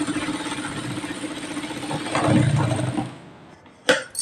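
A sewing machine stitching cloth, running in a rapid mechanical chatter for a few seconds, surging briefly louder before slowing and stopping, followed by a short clack of the mechanism.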